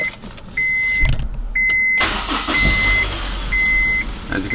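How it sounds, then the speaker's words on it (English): A Honda S2000 is started: key-on chimes beep repeatedly, then the engine cranks and catches into a loud steady idle, with the warning beeps continuing over the running engine. "I'm gonna turn on the car real quick."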